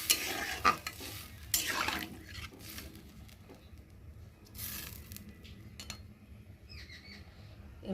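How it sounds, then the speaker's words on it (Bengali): Curry being stirred in a pot just after water is added to the fried spice paste, with several scraping, sloshing strokes that are loudest early on and ease into a softer, steady simmering bubble. "এবার একটু ভালো করে নেড়ে দেবো।"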